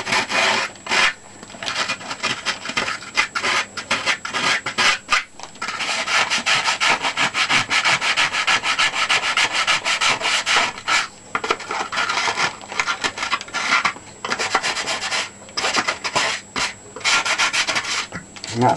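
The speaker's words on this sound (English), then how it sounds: "you just get a light piece of sandpaper if you want, and just make sure its edges are nice" Light sandpaper rubbed along the edges of a Sopwith Pup model fuselage part, a close, loud, continuous scratchy rasp in quick back-and-forth strokes with brief pauses between runs.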